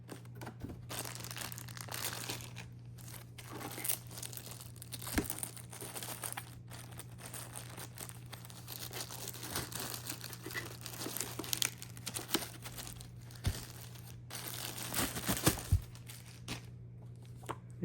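Packing paper crinkles and rustles steadily while a Reecom R-1630C radio (early model) is unboxed, with a low steady hum underneath and a few sharper crackles and crunches toward the end; no one speaks.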